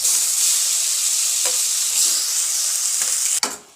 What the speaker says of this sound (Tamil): சொரக்காவை நல்லா வதக்கி எடுத்துக்கலாம்